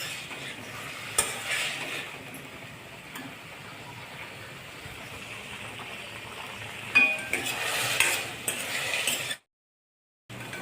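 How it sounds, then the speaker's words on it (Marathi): Tomatoes and onions sauté in hot oil in a pan, a continuous close sizzle with a spatula scraping and stirring, a louder burst of stirring near the end before a brief silence. "तेलात व्यवस्थित परतून घेणे. परतल्यामुळे छान चव येते."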